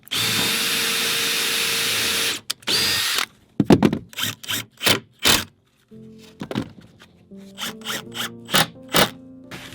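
A power drill pre-drills and drives screws into wood while a sauna is built, first as one long steady whir and then as a series of short bursts, loud and close, with no talk.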